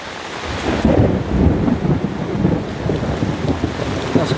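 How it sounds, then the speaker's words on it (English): Thunderstorm over a tent: heavy rain drums steadily on the fabric while deep thunder rumbles through, loud and close, with no voices. "Like you could feel it through your body, the thunder earlier."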